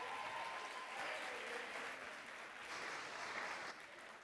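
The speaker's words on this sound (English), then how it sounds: "Just another round of applause for them," Audience applause fills a hall at a student leadership awards ceremony, a steady dense clapping from a large crowd that holds evenly for the whole stretch and then begins to thin slightly.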